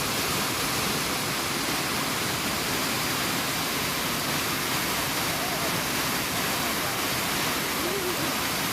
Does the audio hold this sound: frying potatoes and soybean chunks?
no